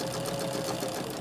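Close, continuous whir of a sewing machine joining quilt fabric pieces, with a faint steady hum under the needle's rapid rhythm and no talking.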